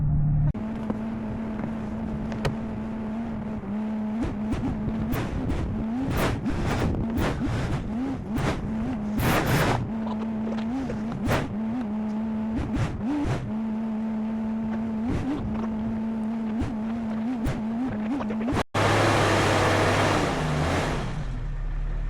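A stuck Jeep's engine droning and revving while the tires dig in, with a steady hum broken by repeated clattering bursts, then a sudden louder roar near the end.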